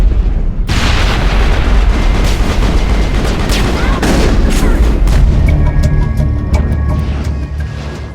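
Heavy gunfire from a firefight in the video game Mass Effect, loud and dense shots and blasts pounding almost continuously for several seconds, then thinning toward the end.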